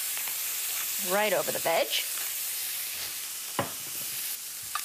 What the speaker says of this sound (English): Saute for just a minute.